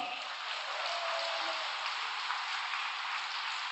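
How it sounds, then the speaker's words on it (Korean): An audience at a Korean gathering applauding, a dense even wash of clapping that carries steadily from start to end without a break. "박수 부탁드리겠습니다"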